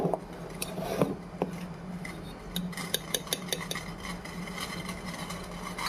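Ragi (finger millet) flour spooned into water and stirred in a kitchen, giving light metallic clinks and scrapes of a spoon against a vessel, scattered taps over a steady low hum, fairly close.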